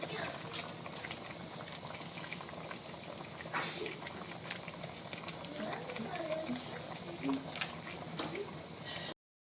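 Beef stew with potatoes and carrots simmers in a pot, a steady low bubbling and soft liquid patter running throughout at close range, with occasional faint voices and kitchen noise in the background.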